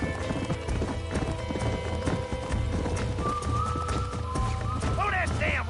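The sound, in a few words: horses galloping in Red Dead Redemption video game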